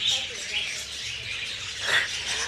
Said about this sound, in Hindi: यहाँ पे हमको काफ़ी सारे छोटे छोटे पंछी देखने को मिलेंगे।